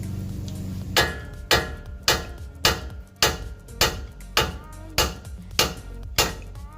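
A hammer strikes the upper control arm of a 2015 Ram 1500 truck about ten times in a steady rhythm, each blow a sharp, ringing clang close by, with no talking.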